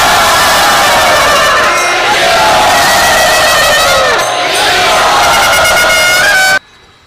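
A lecture audience in Pune roars with loud, sustained cheering and shouting to welcome a speaker, a dense wall of voices that cuts off abruptly at the end.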